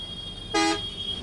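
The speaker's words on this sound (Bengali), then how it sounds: "আপনি কীভাবে দুটি হর্ন ব্যবহার করেন একটু আমাদেরকে দেখান।" A bus's hydraulic horn gives one short, loud, harmonically rich honk over steady traffic noise on a city road.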